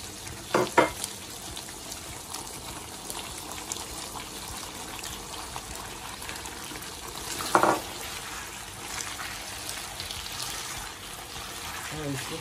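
Gizzard and vegetables sizzle and fry steadily in a pan once the water has cooked off, with a few louder stirring clatters near the start and again midway.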